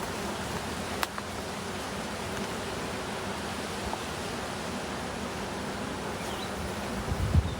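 Swarm of honeybees being captured into a box, producing a steady dense buzzing drone with breezy outdoor noise, continuous and fairly even throughout, with a brief tap near the start and a louder bump at the end.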